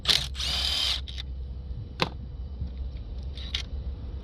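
A power tool fitted with a deep 10mm socket whirs briefly to back a bolt out on a Range Rover Sport engine, followed by quiet clicks and small handling knocks nearby.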